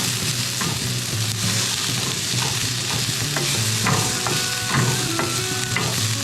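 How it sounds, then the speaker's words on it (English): Garlic cloves sauté in a pan with a loud, steady sizzle that stays constant throughout, overlaid by occasional utensil scrapes and faint tones, close up and without talking. "you wanna cook the garlic for about 30 seconds"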